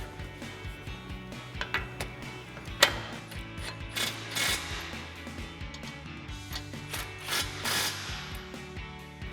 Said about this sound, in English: Now we'll grab our 24mm socket and tighten our hardware down.